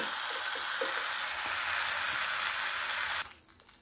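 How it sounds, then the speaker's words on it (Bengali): Qurbani meat is tipped into a hot biryani pot and gives off a loud, continuous hissing sizzle, close by, which cuts off abruptly near the end, leaving quiet background. "আর এখন এখানে আমি এই মাংসগুলো ঢেলে দিয়ে দিব।"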